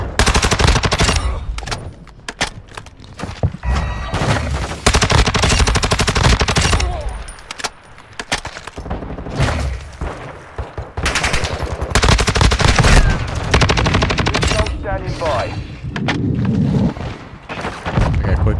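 Automatic gunfire in Call of Duty Modern Warfare II hardpoint multiplayer with an STB 556 assault rifle, rapid loud bursts repeating through the clip, separated by brief gaps, with occasional booms and some game voice callouts.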